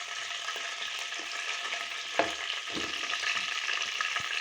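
Cumin seeds sizzle in hot oil in a pan for daal, a continuous bright crackling hiss punctuated by a few sharp pops and utensil knocks, with no speech.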